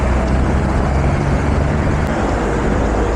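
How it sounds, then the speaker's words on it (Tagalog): Motor vehicles pass along a byway on a bike loop, a loud, continuous low traffic rumble heard close up with wind noise and no speech. "motor vehicles na dadaan dito sa byway."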